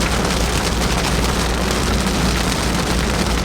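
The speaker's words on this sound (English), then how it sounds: "The sun's out and it's pouring rain." Heavy rain pours steadily in a dense, continuous hiss under sunshine out in the country, with a low rumble beneath as if from a vehicle, and no voices.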